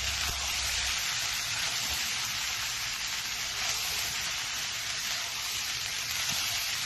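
Cooked rice is stir-fried in a hot pan with egg and vegetables, giving a steady, close hissing sizzle that runs unbroken, with no talking over it.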